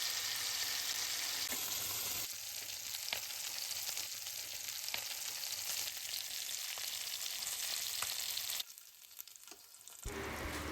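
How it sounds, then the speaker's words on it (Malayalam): Fish coated in a green pepper paste fries in a pan over a low flame, giving a steady close sizzle with occasional soft clicks. The sizzle drops briefly near the end, then returns. "ലൈറ്റ് ഫ്ലെയിമിലിട്ട് തിരിച്ച് മറിച്ച് വിട്ടൊന്ന് പതിയെ വേവിച്ചെടുത്താൽ മതി."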